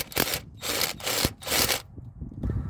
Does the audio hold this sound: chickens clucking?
no